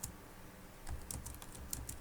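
Typing on a computer keyboard during a lesson produces quiet, close, irregular key clicks, sparse at first and then quicker, with no speech over them.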